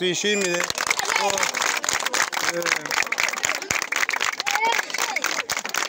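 A crowd claps and cheers for a winning football team at a women's day match, brisk uneven applause close by with scattered shouts and voices talking over it.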